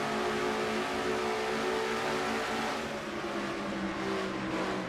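Race car engine in a racing video game at Phoenix, heard from on board as a loud, steady high-pitched whine that holds and rises slightly while accelerating.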